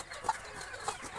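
A hen with fourteen newly hatched chicks gives two soft, brief clucks close by, separated by a short pause, over a quiet background.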